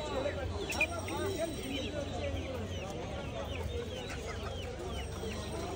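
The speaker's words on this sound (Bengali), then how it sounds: "স্ক্রিনে আপনারা এখন যে মুরগিগুলো দেখতে পাচ্ছেন এগুলো কোচিন নামেই পরিচিত" Cochin chickens, a large fowl breed, clucking in a busy bird market, with steady overlapping chicken calls over crowd murmur.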